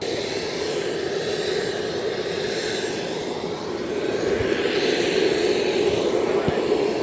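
A helicopter passing overhead near Juneau, Alaska, gives off a steady engine and rotor roar that grows slightly louder toward the end, with people talking nearby.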